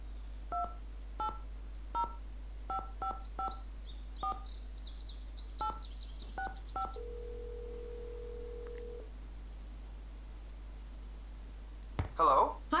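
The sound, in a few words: telephone number being dialed in Nancy Drew video game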